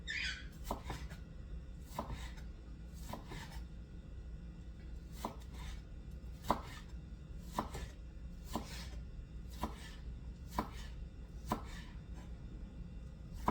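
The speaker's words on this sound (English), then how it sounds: "So I'm going to be chopping up the basics while I do this." Vegetables chopped on a cutting board for a turkey casserole, a steady series of sharp knife strikes spaced about a second apart, close and clear with no talking.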